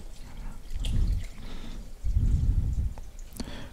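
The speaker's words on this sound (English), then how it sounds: "enough vinegar to cover, and I'm using cider vinegar, apple cider vinegar." Apple cider vinegar pouring over hot pepper relish, two short bursts of low, gurgling liquid pour separated by a brief pause, close and moderately loud.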